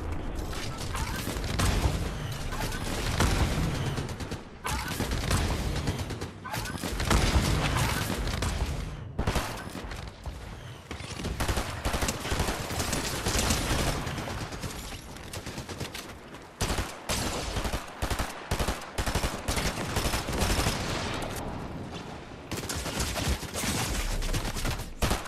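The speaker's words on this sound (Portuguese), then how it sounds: "Ele tá atirando de mim." Near-continuous Fortnite gunfire with mechanical clicks and clatter mixed in, bursts broken by brief gaps over about twenty-five seconds, moderately loud with faint background voices.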